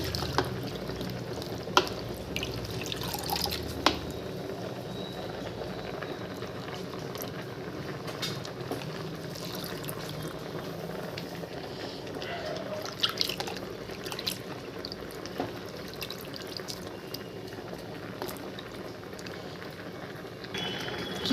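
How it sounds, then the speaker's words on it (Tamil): Washed Brazilian spinach goes into a pot of cooking lentils, with steady close bubbling and soft dripping and trickling water that runs on without a break. "இந்த சமயத்தில் கீரையை கழுகிட்டு அள்ளி வைப்போம் பருப்போட கீரையும் வேகட்டும்"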